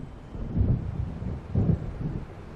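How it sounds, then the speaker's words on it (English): In the Alan Wake video game, an approaching storm gives two deep, muffled rumbles of thunder about a second apart over a low wind-like wash, fairly distant and without any voices. "It seems there's a storm coming."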